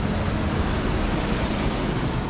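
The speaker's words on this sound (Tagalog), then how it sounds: "So medyo malakas talaga yung alon." Strong sea waves break on a beachfront at Dingalan, a dense continuous roar of surf with wind noise, loud and unbroken, with no voices.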